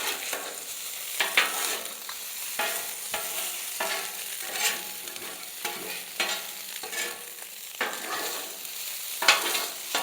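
Eggs fry in oil on a flat griddle for fried rice, a continuous sizzle punctuated by repeated scraping and tapping of a spatula at an uneven rhythm.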